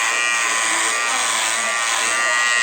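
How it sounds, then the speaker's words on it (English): An electric shaver buzzes continuously and close up as it fades a mid bald haircut, a steady bright drone holding level the whole time with no pauses. "I'm going to be showing how to fade in with the razor, or we call it the shaver by Wall."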